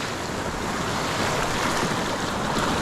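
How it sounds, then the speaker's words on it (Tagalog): Loud, steady roar of ocean waves and surf around a fishing boat at sea, with wind buffeting the microphone throughout and no break in the wash of water. "Ito malakas si alon."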